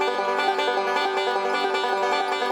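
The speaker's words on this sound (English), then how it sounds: "That's a forward reverse roll." A banjo picks a rapid forward-reverse roll, a continuous stream of bright plucked notes, steady and dense throughout, with no voices.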